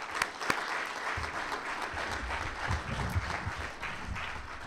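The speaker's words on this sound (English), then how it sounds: "Everybody deserves a round of applause." An audience at a pinball expo Hall of Fame induction ceremony breaks into steady, dense applause, a moderately distant wash of many hands clapping throughout.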